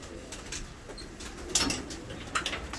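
Fancy pigeons fill a crowded coop in Bursa Karacabey, cooing softly amid a low chatter of many birds, with a couple of sharper knocks and brief flutters nearby.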